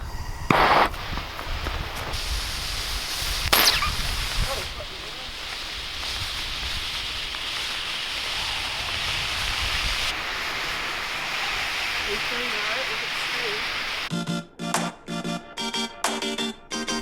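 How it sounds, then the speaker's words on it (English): A homemade smoke grenade made from a 60-40 mix with baking soda is lit with a blowtorch and burns with a steady, strong hiss and a few sharp pops, then ends in choppy bursts of noise. "Blowtorch, the only source of reliable ignition."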